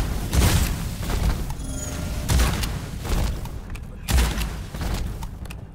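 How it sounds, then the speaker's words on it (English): Shotgun blasts in the dark fantasy shooter Witchfire during a boss fight against the Prophet of the Whispering God, sounding as several loud, booming shots at a steady pace with mechanical clatter between them. "I don't know why I'm using the shotgun here"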